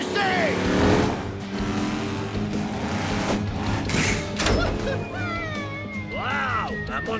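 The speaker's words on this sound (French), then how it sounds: "Waouh, un Monster Truck volant" A cartoon monster truck launching off a ramp, engine roaring loud and steady with revving swells throughout, mixed with music and other effects, while a narrator's voice talks over it.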